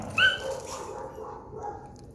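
Several dogs at play give yips and whimpering barks close by, mixed with a brief high squeak and scuffling over a busy, noisy background.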